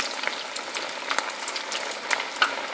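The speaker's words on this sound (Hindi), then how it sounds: "अब हम इसे डीप फ्राई करेंगे।" Mutton kheema kebabs deep frying in hot oil give a steady, close bubbling sizzle with small crackles and pops, continuous throughout with no talking.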